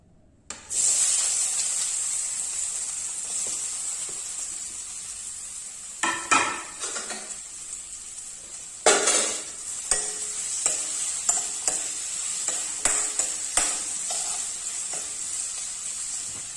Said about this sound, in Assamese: এতিয়া আমি আলু ভাজিটো ভাজিম